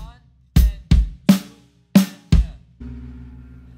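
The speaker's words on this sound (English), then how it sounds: "If I take out the crashes" A few sparse drum hits with kick and snare play a simple rhythm with no cymbal crashes. The dry strokes sound close and separated by short gaps, and a low sustained tone follows.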